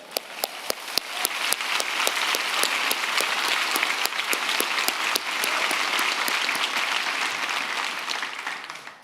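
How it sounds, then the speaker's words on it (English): A convocation audience applauds an honorary diploma recipient at a community college ceremony, with steady, dense clapping from a large crowd that holds at an even level for the whole stretch before tailing off at the end. "we'll give him a clap anyways"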